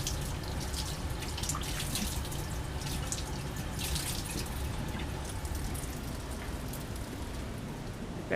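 Glassware greasy with trimyristin residue is washed with soap under running tap water, a steady close splashing and trickling that continues evenly throughout.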